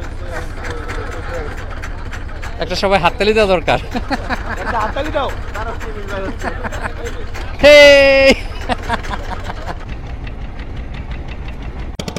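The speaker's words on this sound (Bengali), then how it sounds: "ইঞ্জিল স্টার্ট দেওয়া হচ্ছে" Boat engine on a Sundarbans group tour idles with a low steady thrum beneath loud talking and crowd chatter, a sharp whistle-like tone cutting in briefly.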